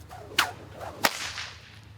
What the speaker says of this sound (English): So that's just called a cattleman's crack.